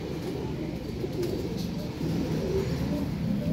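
Tiger breed pigeons coo softly in low, repeated murmurs against a steady background hum, nearby and without any speech.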